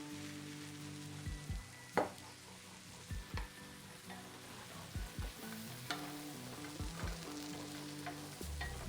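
Steady sizzling of mushrooms seasoned with pepper and dried thyme frying in a pan, with intermittent scraping and stirring clicks from a utensil; no voices.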